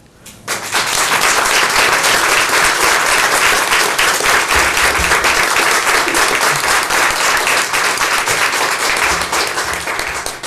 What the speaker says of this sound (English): That applause is well deserved